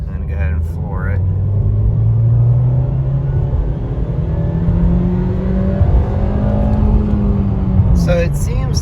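A 2023 Nissan Versa S manual's engine revs hard at full throttle in second gear, its pitch climbing steadily and loudly for several seconds before easing off near the end.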